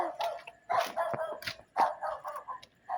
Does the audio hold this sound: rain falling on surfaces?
no